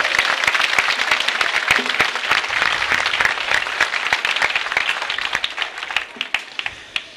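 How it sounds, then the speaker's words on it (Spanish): A crowd applauds loudly and steadily at a town festival's opening proclamation in Turcia, Spain, dense clapping that thins slightly toward the end. "Un aplauso para ella también."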